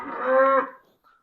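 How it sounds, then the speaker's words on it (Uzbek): A cow at a village farm with pregnant heifers gives one loud, close moo that swells and holds before fading, followed by a brief faint tail. "Bugun hop bo'g'ozlarimiz bor, bitta sigirimiz bor."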